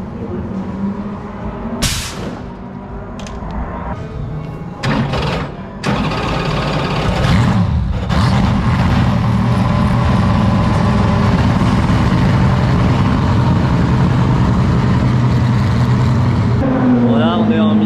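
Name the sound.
Ferrari race car driving past on circuit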